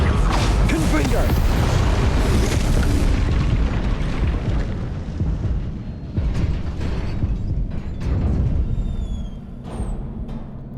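A Confringo spell explodes in Hogwarts Legacy, a loud booming blast with rumbling debris that fades over several seconds, followed by quieter mechanical creaks and faint magical chimes.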